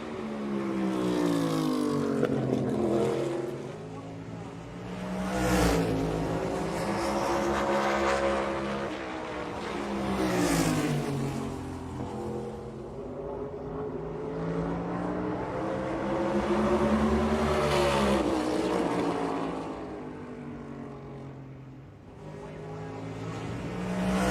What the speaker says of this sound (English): One car out there running.